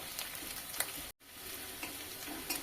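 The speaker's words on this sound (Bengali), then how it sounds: "তো আমি আবারও কিছুক্ষণ ভেজে নেব" Ghugni masala with fenugreek leaves fries in a pan with a steady close sizzle and spoon stirring, broken by a very brief cut of silence midway before the frying resumes.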